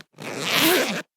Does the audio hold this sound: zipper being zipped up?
yes